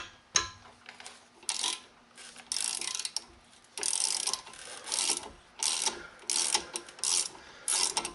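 Ratchet with an extension loosening front brake bolts on a 2012 Ford Escape, bursts of rapid clicking repeating in short strokes, close and fairly quiet, with brief pauses between pulls.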